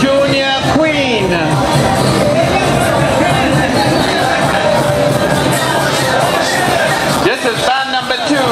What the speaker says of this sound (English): Give her a lovely round of applause.